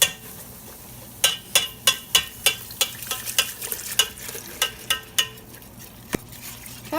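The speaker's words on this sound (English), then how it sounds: "we're going to whisk this on medium heat for about 5 minutes" A whisk strikes the sides of a pot as milk and flour are stirred on medium heat for potato soup, giving a steady run of sharp, rhythmic metallic clicks close by over a soft bubbling background.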